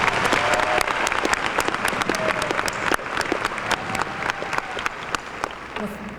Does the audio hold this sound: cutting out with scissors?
no